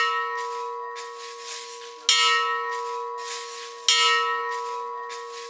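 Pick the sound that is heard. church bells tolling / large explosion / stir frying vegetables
church bells tolling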